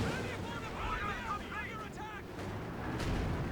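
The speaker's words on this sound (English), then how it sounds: "Airstrike coming in." Rumbling airstrike explosions in Company of Heroes 2 on the Hill 400 map, a continuous heavy low roar under a commentator's voice, with a deeper boom toward the end.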